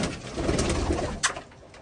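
Pigeons coo on a house rooftop, a brief soft throaty call over a muffled outdoor background, close by.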